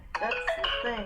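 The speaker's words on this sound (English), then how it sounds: "That's my phone, apparently." A mobile phone gives a short melodic ringtone or notification chime, a few rising tones heard clearly while someone speaks over it.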